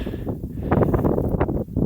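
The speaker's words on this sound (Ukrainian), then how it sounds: "Але вітер дуже дує." Strong wind blows across a winter barley field of the Izocel variety, producing steady, loud, broadband rumble and gusty buffeting at the microphone for the whole clip, with no voices.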